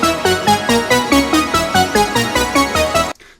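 An electronic breakdown melody plays from a production project: punchy, pulsing synth notes in a steady rhythm that cuts off abruptly near the end.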